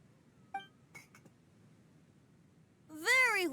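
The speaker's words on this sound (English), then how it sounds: "I propose we raise a glass together." A few light glass clinks ring out briefly in a festive toast scene from the video game Genshin Impact during Lantern Rite, followed by a short voiced exclamation at the end.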